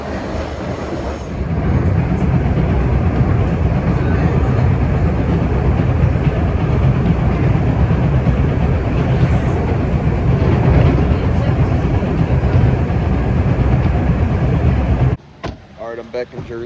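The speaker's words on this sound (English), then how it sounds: "Wait for the train, it's time to go home." A commuter train rolls into a station on the line between Philadelphia and New Jersey, a loud steady rumble and rush of wheels that holds for several seconds before cutting off abruptly.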